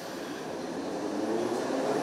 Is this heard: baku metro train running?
yes